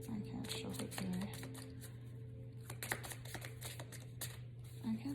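Soft rapid riffling and clicking of cards being shuffled, with a steady low hum underneath and brief murmurs of a voice.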